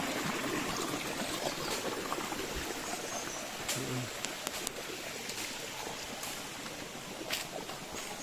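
Water from a spring flows steadily near a river boundary, a continuous broadband rush with brief faint knocks, no talk over it.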